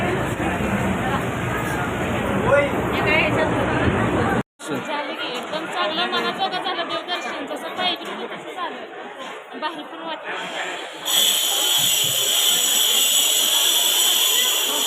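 Dense chatter of devotees queueing at the Ambabai temple. Loud overlapping voices fill the space, broken by a brief dropout, then continue more thinly before a brighter, hissier stretch of background noise near the end.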